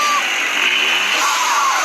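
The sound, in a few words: turbo blow-off valve sound from a car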